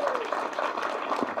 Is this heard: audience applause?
yes